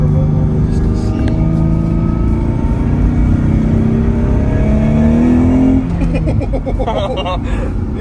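An abandoned Nissan 300ZX engine is turned over and revved, its steady rumbling note swelling and rising in pitch before dropping off, loud and close, with people talking faintly over the end.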